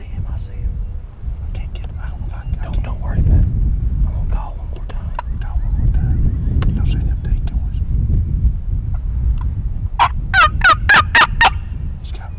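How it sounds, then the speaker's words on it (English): A wild Merriam's turkey in South Dakota gives a quick burst of loud, close gobbles near the end, after soft whispering from hunters over a low outdoor rumble. "And he gobbled. You can't even tell a difference in the gobble."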